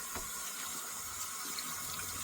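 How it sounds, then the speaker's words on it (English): Tap water runs steadily into a cleaned-out sink for a foot soak, a continuous close hiss and splash with faint low gurgling underneath and no voices. "Now get your water in here."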